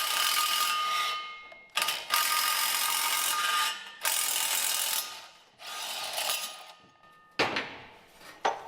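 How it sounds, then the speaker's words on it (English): A ratchet clicks in repeated quick bursts, separated by short pauses, as a bolt is backed out of a weed burner incinerator's wheel mount during assembly; close and crisp with no talking. "Take this bolt back out."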